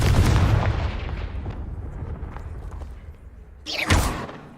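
A loud blast from the Confringo blasting spell in a video game bursts out and rumbles down over a few seconds, followed by a second sharp whooshing burst near the end.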